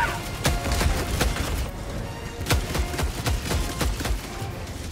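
Explosive weapon fire in Helldivers 2, a rapid series of sharp blasts and bangs in an irregular rhythm, loud and close, with crashing debris between shots.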